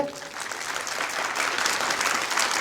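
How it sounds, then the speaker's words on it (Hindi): Students at an inter college motivational class clap loudly together, a dense burst of applause that swells slightly and stays strong for a couple of seconds. "आप अपने माँ बाप के लिए एक बार जोरदार ताली बजाइए।"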